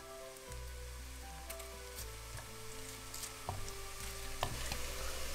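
Onion and spice masala sizzles as it roasts in a pan for black chickpea curry, a steady close crackling fry with occasional stirring scrapes and no talk.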